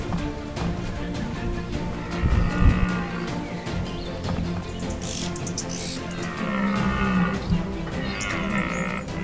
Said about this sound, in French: La vie en troupeau, les buffles la connaissent bien aussi.